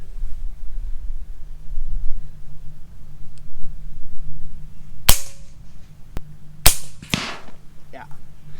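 An FX Panthera air rifle fires at a soda can 100 metres away outdoors, with a few sharp, close cracks in the second half over a low background rumble.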